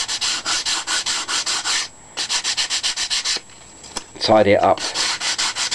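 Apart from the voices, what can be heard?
sanding wood with sanding block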